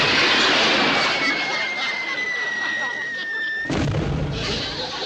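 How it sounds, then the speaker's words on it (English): Fireworks hauled out of a railway station go off in a sustained loud roar with a rising whistle, then a sharp fresh burst near the end, all dense and close. "nobody told him to haul all that fireworks out of the station and set it off"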